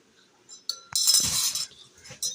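A spoon stirs salt into lemon juice in a glass, with several bright clinks and a brief burst of rapid tinkling strokes against the glass, close up and without voices.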